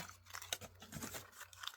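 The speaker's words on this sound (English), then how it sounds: "It wasn't ripping quite the way I wanted" Paper being torn by hand during a steampunk crafting project gives faint, close, uneven ripping and crinkling bursts in a quiet room.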